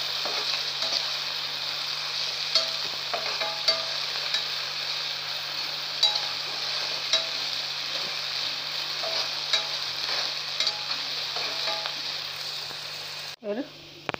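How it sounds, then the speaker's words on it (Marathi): Urad dal and diced potato fry in oil in a pan for shevaya upma, a continuous close sizzle broken by scattered scrapes and clinks of a spoon stirring, ending with a brief louder clatter; no one speaks. "आता थोडा बटाटा आपला वाफवून घेऊया।"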